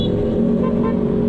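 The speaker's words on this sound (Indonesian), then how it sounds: "kalau ketemu Vespa kita klakson dan mereka pasti balas kalau mereka tahu" A motor scooter horn, answering a passing group of Vespa riders on a Jakarta road, gives a steady sustained toot over continuous engine and traffic noise.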